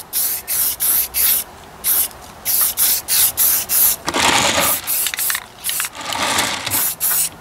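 An aerosol can spraying rust-proof coating onto Ford 800 tractor parts, heard as rapid, close hissing bursts in short rhythmic pulses with a few longer sprays mixed in.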